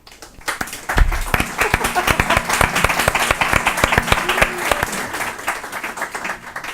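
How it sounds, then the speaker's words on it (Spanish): An audience at a conference-style colloquium breaks into applause that swells quickly and holds steady with distinct individual claps, then tapers off near the end. "yo pido un aplauso para ella también"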